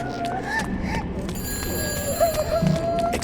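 A telephone rings in the Shadows of the Damned video game, a thin electronic trill sounding faintly over continuous in-game background noise.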